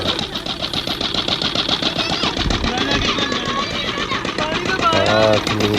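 A 16 horsepower Peter diesel engine runs steadily in winter after a cold start, a loud, fast, even knocking chug that continues throughout, with a voice speaking briefly over it near the end.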